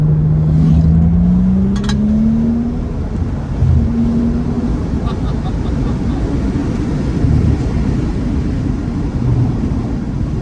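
A BMW 335i with an N55 engine, tuned to Stage 2 and running an E30 blend, pulls hard in third gear, a loud low drone rising steadily in pitch from inside the cabin with wind rush.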